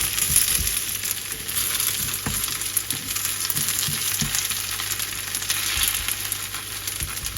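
Grated potato rösti fries in a pan with a steady, dense sizzle and crackle, occasional soft pops rising above the constant hiss.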